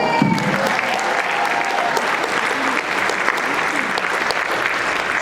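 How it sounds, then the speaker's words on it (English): A luncheon and business meeting audience gives sustained, even applause, many hands clapping steadily at close range for the full stretch without a pause. "A second round of applause for Ashley Hall"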